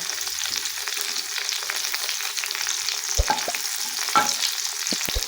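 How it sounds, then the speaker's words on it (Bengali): Garlic, two bay leaves, a dried red chilli and whole cumin seeds sizzle steadily in hot oil, a constant close hiss with a few sharp spits and pops near the end, no voices. "তেলের মধ্যে আমি রসুন ফোড়ন দিয়ে দিব, 2টো তেজপাতা দিয়ে দিব, একটা শুকনো লঙ্কা আর একটু গোটা জিরা।"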